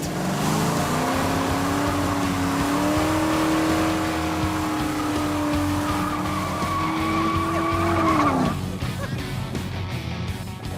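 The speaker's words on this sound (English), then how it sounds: "nothing beats the feel of your butt on a real road with a Hemi up front." A Plymouth Satellite Roadrunner with a Hemi engine drives on a road, its engine note holding steady and loud and then climbing, with tire noise. The sound fades abruptly near the end.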